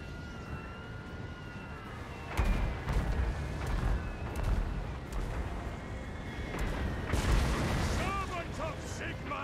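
Gunfire and booming artillery on a Total War: Warhammer 2 battlefield with Empire troops, heavy blasts and crackling volleys under chaotic battle noise, whistling effects and someone talking throughout.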